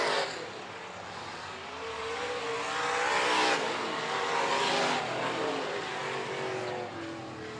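Street stock race cars roar around a speedway at a fall feature race, engines loud and sustained with a swell as cars pass close near the middle, no talk.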